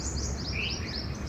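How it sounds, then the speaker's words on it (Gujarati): A bulbul sings outdoors in a garden among trees, a run of quick bright chirps and warbling notes over a low steady background hum, moderately close, with no talking. "આ બુલબુલ બોલે છે."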